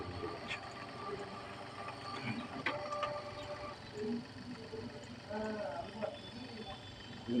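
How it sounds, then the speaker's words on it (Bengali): A wedding card printing machine runs steadily while printing a sticker, a dense mechanical rattle and clatter that carries throughout with people talking over it. "ও স্টিকার আছে, একটা স্টিকার প্রিন্ট করে দেখাবো।"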